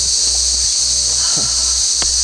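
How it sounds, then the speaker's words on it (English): Cicadas drone loudly and continuously at a campsite in the Northern Territory, a steady high buzz filling the whole clip with a few faint clicks and rustles underneath. "That's what the cicadas do."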